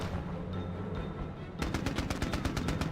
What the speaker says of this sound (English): I probably should get out of the firing range of that machine gun if I want to live